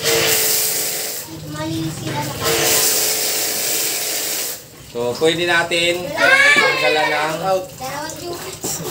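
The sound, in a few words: water spraying from car wash vending machine hose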